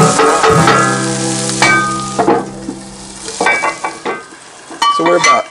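Sausage, bacon and sweet potatoes sizzle loudly in a cast iron pan, with a steady frying hiss and several scraping stirs of a utensil against the iron.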